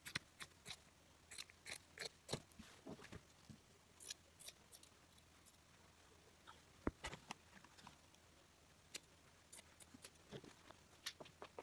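Scissors cutting through a bath towel's fabric, a series of sharp, close snips in irregular bursts with quiet pauses between, faint and alone.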